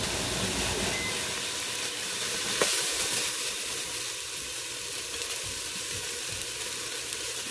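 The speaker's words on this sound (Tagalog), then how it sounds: "para maggisa ng kaunti itong karne guys" Beef sautés in a pan without its broth, a dense, steady sizzle and hiss held close, with occasional stirring scrapes and a brief sharper burst near the middle.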